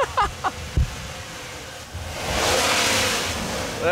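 Engine of a broken tow van revving while in reverse but not moving, a rising roar that swells and holds near the end, preceded by a few short thumps and knocks.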